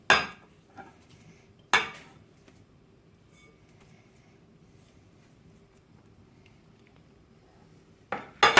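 A melted mixture is scraped out of a pot into another cooking vessel, with three sharp metallic clanks of a utensil against the pot at the start, the middle and the end, and a low, steady background hum between them.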